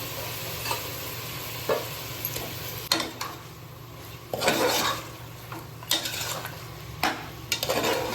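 Washed bone-in chicken pieces tipped into a pan of onion-tomato gravy for chicken curry, then stirred with a utensil; scattered scraping and clinking knocks over a low steady sizzle, close and fairly quiet, no talk.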